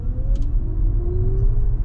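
Mercedes-Benz entry-level electric car accelerating hard, heard from inside as a low road rumble with a faint rising electric motor whine, steady and fairly loud.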